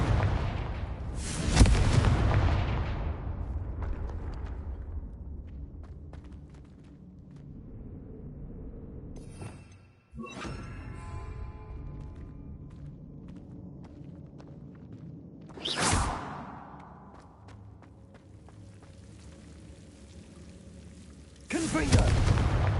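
Confringo blasting-curse explosions in a Hogwarts game, three heavy booming blasts spaced far apart with rumbling decay, plus a crackling burst midway; a voice speaks between them.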